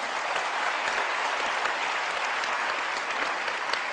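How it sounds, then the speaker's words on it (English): A crowd claps at a religion and politics debate, the applause a continuous, fairly loud patter of many hands held steady for several seconds with no speech. "for the people applauding"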